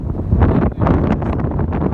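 Wind buffets a microphone outdoors at a frigid, 4-degree geothermal area in Iceland, a loud, continuous low rumble with gusty surges and a brief dip partway through.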